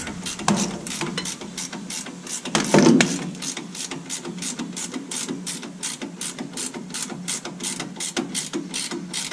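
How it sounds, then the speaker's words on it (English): Ratchet wrench driving a bolt home on the rear brakes of a GMC Sierra pickup, a steady run of rapid, evenly spaced clicks close by, with one brief louder clunk partway through and no talking. "Just kind of gotta wrench this bolt all the way in there."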